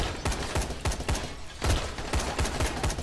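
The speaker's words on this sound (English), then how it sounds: "That's some horrible shooting" Gunfire in the video game Dying Light: a steady run of sharp, evenly spaced shots, fairly loud and close, with no talking over it.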